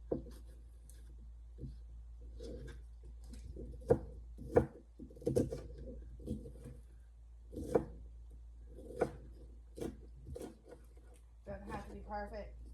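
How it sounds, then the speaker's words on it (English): A knife chops onions into chunks on a cutting board, giving irregular, sharp taps spaced a second or so apart, fairly quiet and close, while a person talks over them. "I'm chopping these kind of in chunks."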